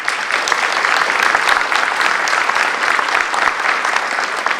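Steady, dense applause from an audience at a high school JROTC awards ceremony honoring award winners, many hands clapping continuously at even loudness throughout.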